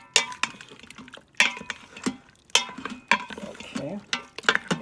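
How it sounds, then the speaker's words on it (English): A spoon stirs diced tomatoes into oxtails in a cooking pot, giving repeated scraping, clinking strokes in bursts with a soft sizzle underneath, close up and moderately loud. "Kind of stir that around in there for just a moment."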